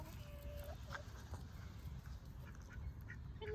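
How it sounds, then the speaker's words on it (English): A drake duck near a nesting hen gives a few soft, scattered quacks at a distance in quiet outdoor surroundings, with faint background noise. "Here comes Dad Duck checking me out."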